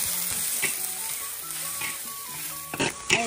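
Huanggua xiang wild greens stir-fried with garlic in a wok: a continuous close sizzle with quick scraping spatula strokes, ending in a few louder clatters of utensil against the pan.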